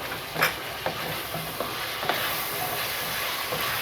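Oil added to a pot of Peshawari namkeen gosht, salted meat already cooking in ghee, sets off a loud continuous sizzle with a few sharp spatters and scrapes close by.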